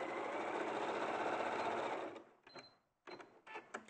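Sewing quilt rows, a sewing machine whirs loudly and steadily for two seconds, then slows and stops, followed by a few short bursts of stitching and light handling.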